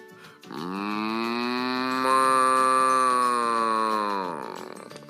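A single long, deep cow moo, loud and close, with a rich harmonic drone that swells slightly midway before trailing off.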